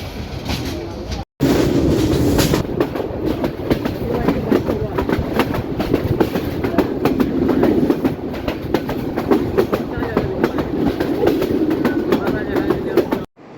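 The Parabat Express between Sylhet and Kulaura, heard from an open coach door, gives a loud, steady roar of wind and rolling wheels with continuous rhythmic clatter over the rails.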